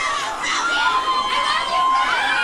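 A crowd of Backstreet Boys fans screams and cheers loudly and continuously at a live TV appearance, high-pitched shrieks rising and falling together.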